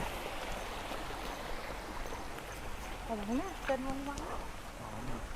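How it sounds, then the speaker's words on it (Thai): A small indoor waterfall in a cafe gives a steady, soft rushing wash of falling water throughout, with people chatting over it and a few clinks. "มีน้ำตกเล็กๆให้ดูด้วย"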